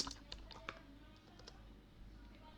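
Fingers tap out a short burst of keystrokes on a computer keyboard, a few quick, crisp clicks close to the microphone, fairly quiet with no talking.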